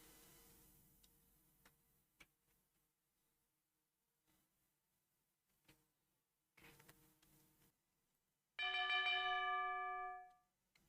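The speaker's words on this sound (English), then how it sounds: "The town bell." A town bell from the video game Age of Empires II rings once as a loud, bright chime with several clear tones that decay over about two seconds, following scattered faint clicks and quiet game noises.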